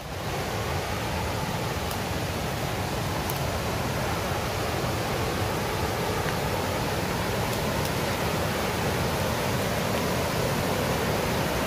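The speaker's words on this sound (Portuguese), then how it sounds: "aqui é uma correnteza bem forte" Strong water current rushes at the head of a forest waterfall, a steady, loud, broadband roar that holds without pause.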